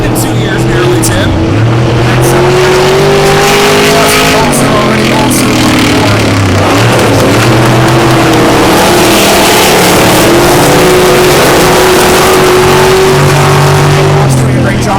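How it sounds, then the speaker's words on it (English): Dirt track race cars and trucks, including V8 cars, roar past at full throttle, loud engines rising and falling in pitch as they rev and pass close by, a continuous thunderous drone throughout. "Hearing those cars and trucks fire off, dirt flying"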